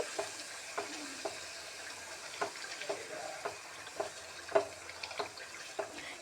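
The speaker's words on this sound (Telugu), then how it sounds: "ఈ చింతపండు గుజ్జు అనేది ఇలా మనము ఆయిల్లో వేపుకుంటే ఏంటంటే పచ్చడి అనేది పాడైపోకుండా బాగుంటుంది" Tamarind pulp for an amla pickle frying in oil while it is stirred. A soft, steady sizzle runs throughout, and the spoon gives repeated light scrapes and taps at an uneven rhythm.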